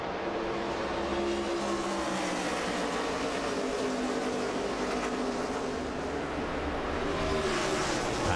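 NASCAR Nationwide Series cars racing under green at Texas in the 2010 O'Reilly 300, a steady, loud, continuous engine roar with shifting whining tones as the pack circulates.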